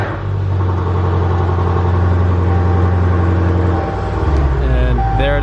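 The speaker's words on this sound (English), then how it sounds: "We're gonna go ahead and start up the car" A car engine, one with a check engine light fault after a modification, turns over and settles into a loud, steady, close idle rumble, with a small rise and shift in tone near the end.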